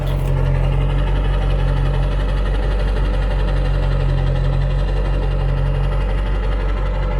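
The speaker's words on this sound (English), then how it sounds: "Not super loud, but very nice sounding dual exhaust system." A 1999 Ford F350 pickup with a 7.3 Powerstroke turbo diesel idles steadily through an AFE dual exhaust with 4-inch to 5-inch tips, a deep, constant, close rumble with no talking.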